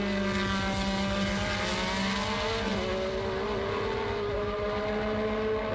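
Mid-1980s Formula 1 cars, a McLaren chasing a Williams at Silverstone during the 1985 British Grand Prix, scream continuously with high revving engine notes and shifting pitch, steady and loud throughout without speech.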